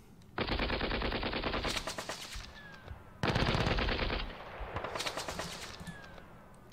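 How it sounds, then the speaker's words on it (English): Two long bursts of rapid automatic gunfire from the wargame Panzer Battles North Africa 1941, each a dense rattling stream lasting a few seconds, separated by a short gap, with sharper cracks and whizzing tails trailing after each burst. "I think we need to fire at these guys."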